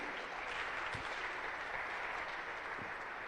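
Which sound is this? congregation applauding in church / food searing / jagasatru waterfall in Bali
congregation applauding in church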